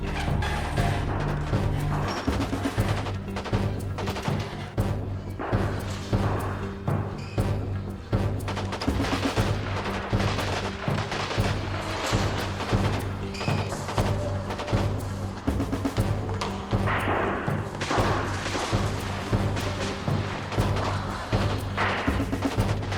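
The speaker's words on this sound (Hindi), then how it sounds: "यार ये गोलियां चलने की आवाज़ आ रही है।" Gunfire heard in a police drama, dense and continuous over about twenty-three seconds, with repeated booming, cracking shots and loud thuds layered over a steady low rumble and no pauses.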